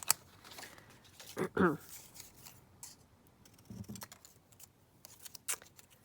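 Scissors snip through a sheet of folded patterned paper for a Christmas papercraft project, a couple of short crisp cutting bursts close by with quiet pauses and faint handling rustle between them.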